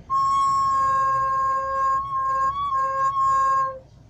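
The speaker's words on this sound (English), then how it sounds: "And if you left a hole uncovered slightly, this is the sound." A recorder (flute recorder) note with one hole slightly uncovered, an unstable whistly tone that wavers and breaks between pitches over about four seconds, close and alone.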